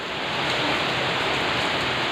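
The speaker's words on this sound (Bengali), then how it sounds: "আজকে তিতলিদের পাড়ায় ঝড় উঠেছে, ঝড়।" Rain falls during a storm as a loud, unbroken rushing hiss that stays constant from start to finish.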